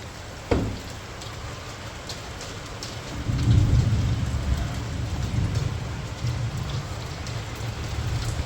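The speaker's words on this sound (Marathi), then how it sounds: "पहिल्या पावसात योगिनी आणि नेत्रा मस्तपैकी भिजतात आहे." Heavy first monsoon rain pouring onto an open terrace, a dense steady roar with a sharp crack early on and a deep rumble of thunder swelling midway, no voices.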